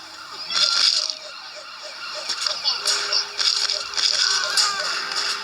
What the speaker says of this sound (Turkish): Aa polis değil mi lan o? Ana o polis.